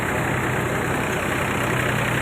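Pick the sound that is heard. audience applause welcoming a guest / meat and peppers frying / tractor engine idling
tractor engine idling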